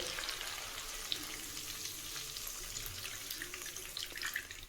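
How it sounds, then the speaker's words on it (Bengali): Mustard paste water is poured into spices frying in a pan for Bengali sorshe ilish, giving a steady, close splashing sizzle with faint stirring and no speech. "এরপরে আমি যে সর্ষের যে জলটা রেখেছিলাম পেস্ট করে ওটা দিয়ে দেবো।"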